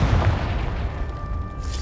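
A Confringo fire-blast spell exploding in the game Hogwarts Legacy, a deep booming burst that rolls on as a low rumble and fades over about two seconds, loud and without voices.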